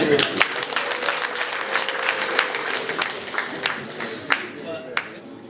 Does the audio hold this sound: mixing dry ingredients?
no